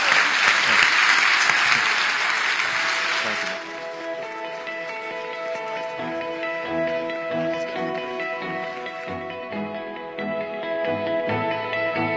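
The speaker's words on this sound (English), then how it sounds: "Everybody please give Jack and Aisha a big round of applause." Audience applause closing a session of a conversation event, loud and sustained for about three and a half seconds, then fading into softer lingering clapping as music-like tones emerge beneath.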